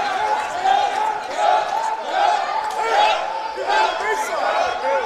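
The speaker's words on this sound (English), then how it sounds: "the Reinhardt crowd having a little bit of fun cheering on their hometown Eagles" Home crowd at a Reinhardt University Eagles college basketball game against Truett McConnell, cheering in repeated swelling waves of voices in a gym, mixed with crowd chatter.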